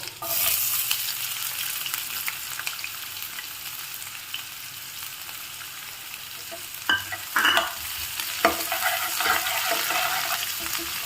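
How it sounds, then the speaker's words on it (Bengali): Chopped onions fry in a pan with a steady hiss of sizzling oil, then bursts of stirring and scraping toward the end. No one speaks. "তো পেঁয়াজটা একটু ভাজা ভাজা হতে থাক"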